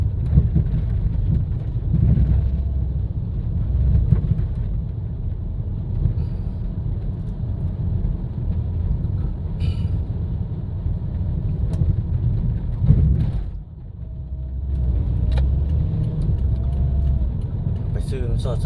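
Steady evening car traffic on a suburban road in Vientiane, a continuous low rumble of passing vehicles with a brief dip near the end, with talk faintly mixed in.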